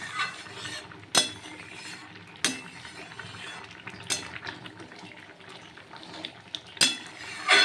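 Ridge gourd and lentil dumpling curry is stirred in a pot, a spoon clinking sharply against the metal every second or two over a faint bubbling, liquid sound.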